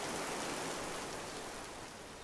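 Rain in the video game This Land Is My Land, a broad, steady wash of falling water that fades slightly toward the end, with no voices.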